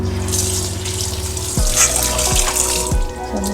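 A kitchen sink tap runs steadily while dishes are washed with soap, a continuous close splashing stream over a low mechanical hum, with a few deeper thuds partway through.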